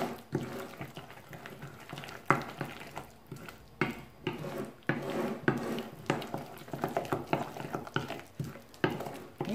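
Chocolate muffin batter stirred in a bowl, a soft irregular scraping and tapping of a utensil that goes on steadily and quietly throughout.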